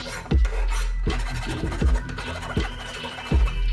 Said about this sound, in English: we're gonna take a file and just clean up any rough edges